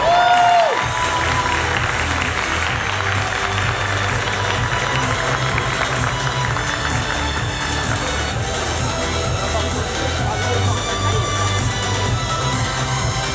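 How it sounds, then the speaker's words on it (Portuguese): A crowd claps and cheers continuously for cosplayers at a convention cosplay show, a dense wash of applause with scattered shouts, loud and sustained throughout. "E uma salva de palmas para esses cosplayers maravilhosos!"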